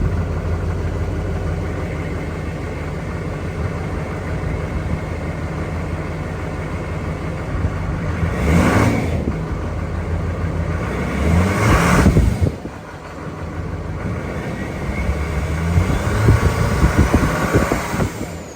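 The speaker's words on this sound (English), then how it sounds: "I'm also going to do a cold start real quick of the stock exhaust" A Duramax diesel pickup on its stock exhaust cold-starts and idles with a deep, close rumble, with two brief louder surges a few seconds apart before it settles back to a steady idle.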